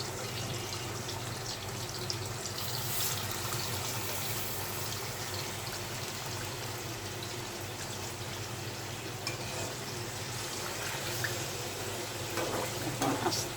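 Chicken pieces fry in plenty of hot oil with a steady, fairly quiet hiss that holds evenly throughout and stays close by.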